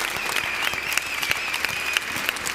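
A church congregation at Lindakirkja claps steadily, dense and continuous applause filling the space, with no voices rising above it.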